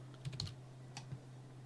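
Short bursts of keystrokes on a computer keyboard while typing a search term, a few quick soft clicks over a steady low hum, quiet and close with no talking.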